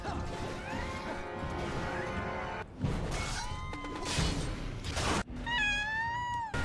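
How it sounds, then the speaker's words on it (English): A cat meows repeatedly in rising and falling cries, broken by loud crashing and smashing noises, with no talking. "That's the cat alarm."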